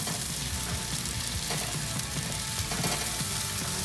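Pork chops sizzle steadily on a Po' Man Grill, a loud, continuous frying hiss with faint crackles, heard up close and alone, no voices.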